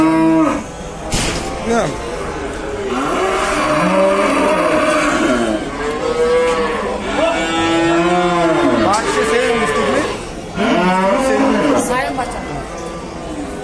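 Cattle at the Khujand livestock market moo repeatedly in long, loud, drawn-out calls, several animals overlapping close by, while people talk throughout amid market bustle.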